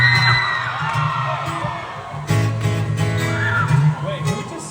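A crowd member screams during a band's concert sound check in Michigan, a loud high yell rising over a hall full of crowd noise and cheering, with voices throughout.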